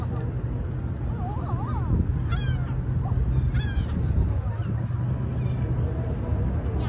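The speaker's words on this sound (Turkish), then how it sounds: "martılar yemek yiyorlar." Seagulls call while feeding over the Golden Horn in Istanbul, several squealing cries at mid distance above a steady low rumble of wind and traffic, with a voice talking now and then.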